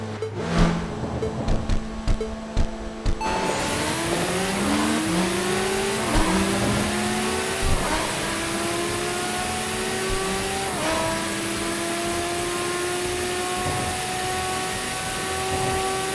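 A Nissan GT-R in the Tokyo Xtreme Racer racing game revs hard and accelerates, its engine pitch climbing through repeated gear shifts into a loud sustained drone, after a few seconds of choppier revving at the start.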